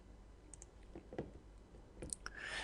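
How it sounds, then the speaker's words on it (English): Mouse clicks on a computer while setting up Excel macros: a few sharp, faint clicks spread across a quiet room background, with no talking. "so I'm just clicking on OK"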